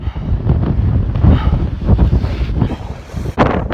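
Strong gusting wind on Longs Peak buffets the microphone with loud, rough roaring that swells and drops in waves, alone and close throughout.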